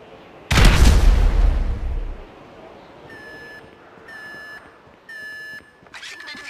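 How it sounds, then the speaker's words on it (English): A loud explosion in the video game GTA 5 bursts with a deep rumble and fades over a second or so, then several short electronic beeps follow. "An explosion will tend to do that."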